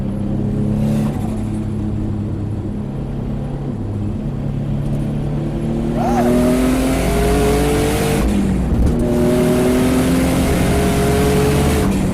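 A boosted Rocket Bunny Nissan 350Z in Malaysia accelerates hard from inside the cabin, loud rising engine revs climbing through gears with brief shift breaks and renewed pulls, no talk.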